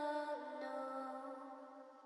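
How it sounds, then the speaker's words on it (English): A pitched vocal chop sample layer for an atmospheric track: a sustained, breathy sung tone with a slight pitch shift early on, alone and moderately loud, fading gently over about two seconds. "the last layer I have here is this vocal chop"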